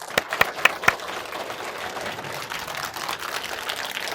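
An audience at a Buddhist monk's talk during an international Buddhist film festival breaks into applause, a few sharp individual claps at first, then dense, sustained clapping filling the room.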